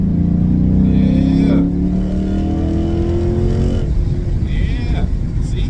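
A Chrysler 300 V8 accelerates hard, its engine note climbing steadily for several seconds and then easing off, loud and close, with a voice talking over it.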